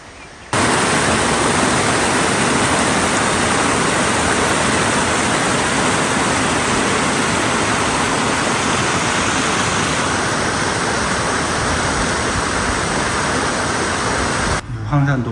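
A mountain valley stream on Huangshan rushes steadily nearby, a loud, unbroken broadband wash of flowing water that starts abruptly and runs almost the whole time.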